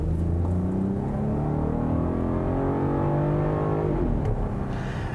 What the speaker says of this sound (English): this is the VR6 motor, and this is a lot of weight that it's pushing around